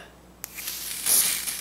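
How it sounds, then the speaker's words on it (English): Short hissing bursts from an aerosol can of ORS Olive Oil Fix It Wig Grip Spray on a lace wig, close by, starting after a small click and swelling briefly louder near the end. "I'm gonna melt the lace using the ORS Olive Oil Fix It Wig Grip Spray"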